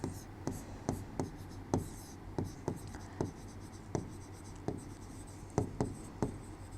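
Chalk or marker strokes on a board during a biology lecture, a quick series of sharp taps and scratches at an irregular rhythm, fairly close and alone with no talk over them.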